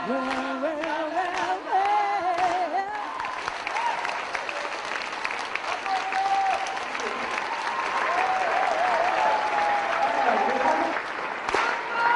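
A concert audience in a packed auditorium claps in rhythm after a performance, sustained steady applause with some cheering and faint voices mixed in.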